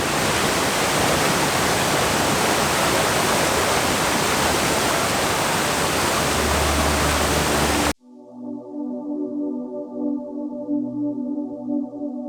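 Roaring broadband rush of Pulang Bato Falls waterfall in Negros Oriental, loud and steady for about eight seconds before cutting abruptly to a quieter section with a low humming, tonal background.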